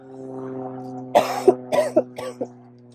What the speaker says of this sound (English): Oh, I've got a little bit of a cough again.